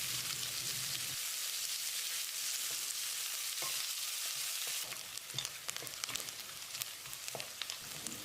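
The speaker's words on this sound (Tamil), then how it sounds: "வெங்காயத்தை கண்ணாடி பதத்துக்கு வதக்கிடலாம்" Sliced onions sauté in a hot pan for moong dal pulao, a steady close sizzle and crackle with occasional stirring scrapes throughout.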